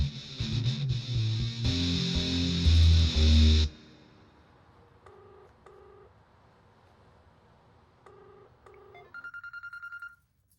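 In a Hindi action movie, loud music plays, then stops; a few short telephone dialing tones beep in pairs, followed by a rapid high electronic ringing trill at the end.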